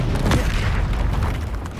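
A Bombarda explosion spell in the video game Hogwarts Legacy lands as a deep, loud boom. A rumbling blast swells, then decays into a dense roar that lasts the whole short moment.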